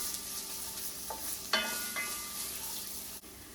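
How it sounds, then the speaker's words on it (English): Onions sautéing in hot oil, a steady soft sizzle with a few brief clinks or stirring sounds, fairly quiet and close with no talk. "Okay, now the oil is hot, so we're gonna add our onion."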